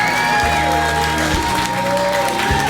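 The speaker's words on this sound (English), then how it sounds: "Give yourselves a big round of applause." A large crowd at a stand-up comedy show applauds loudly and steadily, a dense wash of clapping filling the space for a few seconds.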